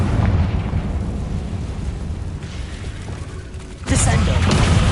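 A Confringo fire spell explodes in the Hogwarts Legacy video game, a dense roaring rumble that fades a little before a fresh loud burst slams in near the end.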